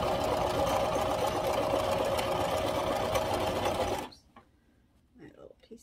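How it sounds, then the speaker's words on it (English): Sewing machine stitching fabric for a Halloween cushion, a loud, steady rapid whirr that runs for about four seconds and then cuts out, leaving quiet handling noises. "you put this down and you should be able just to continue sewing"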